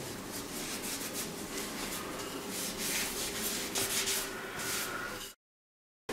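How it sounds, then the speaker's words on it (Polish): A cloth rubbing oil onto the metal head of a freshly rehandled hammer, producing soft, steady scrubbing strokes close up, then abrupt silence near the end. "Możemy jeszcze posmarować część metalową oliwką, żeby zabezpieczyć przed korozją."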